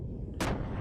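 Warship cannon fire in the video game Xenogears, a single sudden loud boom cutting in over a low rumble and then decaying into a dull tail.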